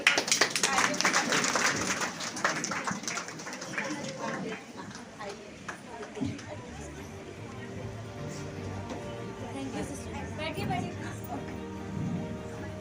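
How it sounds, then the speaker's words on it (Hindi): An audience claps at an International Women's Day celebration, a dense burst of applause in the first few seconds that thins out and fades beneath voices and background noise. "अरे तालियां बजा दो भाई।"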